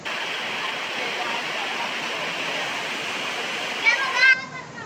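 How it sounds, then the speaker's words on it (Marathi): Water pours over the weir at Randha waterfall, released in heavy volume, as a loud, steady roar that fills the whole stretch, with a brief voice near the end. "ही रंधा धबधब्याची केटी, या केटीवरून पूर्ण पाणी वाहत आहे"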